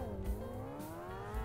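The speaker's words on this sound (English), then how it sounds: "I just love driving my DeLorean" In Garry's Mod, a DeLorean car engine drones and climbs steadily in pitch as the car accelerates, at moderate loudness with no other sounds over it.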